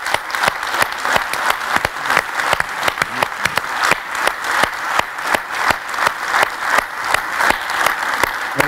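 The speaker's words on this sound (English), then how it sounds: "I think you need first a very big applause for what you did" A crowd at a chemistry forum panel discussion applauds steadily, sharp hand claps rattling together in a dense, sustained burst at moderate distance.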